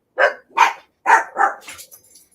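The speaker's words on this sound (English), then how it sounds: "The dogs agree with me too." Dogs barking nearby: four sharp, loud barks in two quick pairs, followed by a softer trailing yip and whine as the sound dies away.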